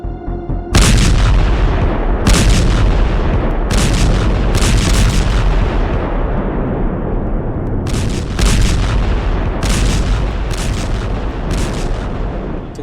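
Artillery firing on the Russia-Ukraine front, a continuous loud roar of gunfire and explosions with heavy, booming blasts recurring every second or so across the whole stretch, no voices.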